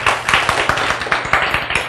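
An audience at a healthy-eating lecture claps in a brisk, fairly close burst of many hands, with the individual claps sharply distinct and no talking over them.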